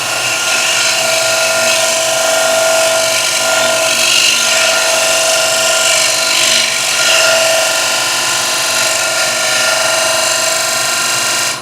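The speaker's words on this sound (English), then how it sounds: "So I can come in here and cut a bead right here," A beading tool cuts a bead into a lathe-turned wooden platter, giving a loud, sustained, close scraping hiss over the steady hum of the spinning lathe.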